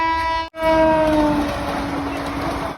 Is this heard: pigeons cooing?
no